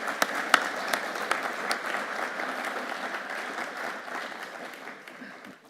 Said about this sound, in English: Give them a huge, big round of applause.